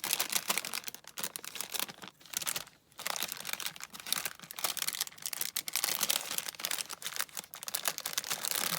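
Scissors cut open a paper package, a steady run of crisp snips, crinkles and paper tearing close by with brief pauses, no talking.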